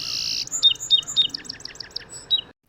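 A song sparrow sings a bright, rapid run of repeated chirping notes from dune grass and blackberry tangles above an Oregon coastal beach, clear and close for about two seconds.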